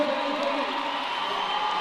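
A roller derby World Cup crowd at a Canada vs France game roars in a steady, dense wash of cheering and whooping, loud and continuous throughout.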